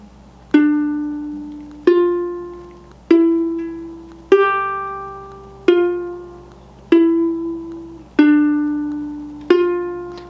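Solo ukulele plucked with the thumb, playing the melody line of St James Infirmary: eight single notes spaced evenly, each ringing clearly and fading before the next.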